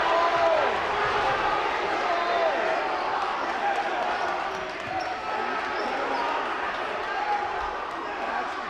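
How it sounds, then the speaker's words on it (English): A boys high school basketball crowd at a Kearsarge vs Gilford game, wound up and upset, makes a steady roar of voices and murmuring in a gym, with sneaker squeaks and a commentator talking over it. "Crowd's all wound up and upset right now."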